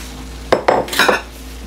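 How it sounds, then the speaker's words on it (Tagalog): A spoon clatters against a pan in a few quick scraping strokes while stirring sauce with chopped crispy pata meat, close and fairly loud, with a brief pause between the knocks. "Halo mo lang yung sauce"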